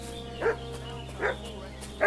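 A dog in Kingdom Come: Deliverance 2 barks three times at a steady interval, moderately loud over a low ambient game hum, with no voices.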